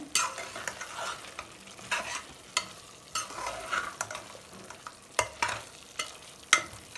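Gongura leaves tossed into a hot frying pan for a gongura chicken curry, with repeated scraping stir strokes over a steady sizzle, close and alone.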